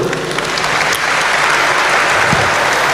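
Loud, dense applause from an audience at an Islamic lecture with university students, continuous clapping heard up close and unaccompanied by speech.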